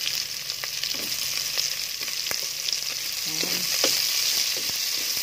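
Onions frying in a pan for a nilaga with jackfruit, a dense bright sizzle running the whole time, broken by clattering spatula strokes and scrapes against the pan.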